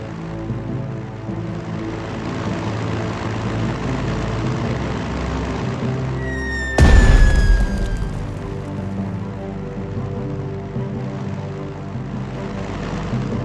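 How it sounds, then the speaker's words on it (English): Steady propeller bomber engines drone loudly and continuously in the Strategic Mind: Blitzkrieg strategy game, with a sharp burst and a descending whine partway through. "Select the bomber and attack it."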